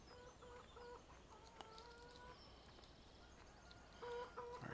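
Chickens clucking in the farming video game Farming Simulator 17, a steady stream of soft, repeated clucks and short calls over a quiet background hum.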